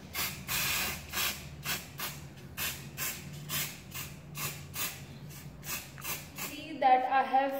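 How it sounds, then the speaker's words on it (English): An aerosol spray paint can sprays onto a glass bottle in a steady series of short hissing bursts, evenly spaced and close, with a brief clatter at the end. "start spraying the spray on the bottle from 20 to 30 centimeters"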